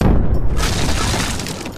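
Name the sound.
explosion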